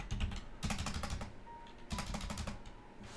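Fast typing on a computer keyboard, close and crisp, in two dense bursts of rapid clicking keystrokes separated by quieter pauses with scattered single taps.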